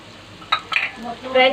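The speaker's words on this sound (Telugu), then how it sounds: "ఇవి ధనియాలు అండ్ వెండి మిరగాయలు 2 కలిపి వేయించాలి" Coriander seeds and two dried red chillies being dry-roasted in a pan for spicy podi, with soft sizzling and a few brief scraping stirs of a utensil against the pan.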